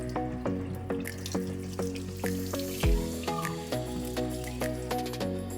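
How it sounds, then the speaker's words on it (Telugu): Raw chicken being washed under a running kitchen tap, with water splashing steadily into the sink and soft squishing handling sounds repeating throughout. "ముందుగా చికెన్ శుభ్రంగా కడిగి పక్కన పెట్టుకోవాలి."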